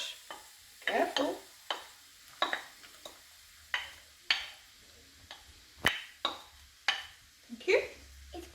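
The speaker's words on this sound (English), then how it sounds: "Add the onion and garlic into the frying pan and cook for 2 minutes until the onion starts to soften" Onion and garlic frying in oil in a frying pan, a soft sizzle beneath repeated sharp scrapes and clacks of a utensil stirring, with people talking nearby.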